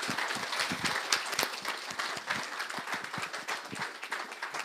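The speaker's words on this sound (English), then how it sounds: "I think another round of applause for our 3 guest presenters," An audience at a breakfast event applauds steadily, with dense, continuous clapping from many hands that holds at an even level throughout.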